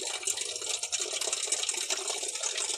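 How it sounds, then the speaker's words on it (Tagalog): Filtered water flowing steadily on a farm, a continuous bright hissing trickle and splash, close and unbroken with no talking. "Okay, kay kaagas ang tubig."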